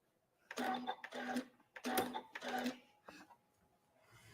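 A home sewing machine runs a quick seam on apron straps with a 1/4 inch foot, stitching in four short close bursts with pauses between them, followed by a few soft handling clicks.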